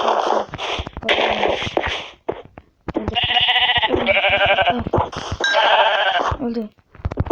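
Repeated loud bleating from several sheep in Minecraft in quick succession, nasal wavering cries with brief pauses between bursts.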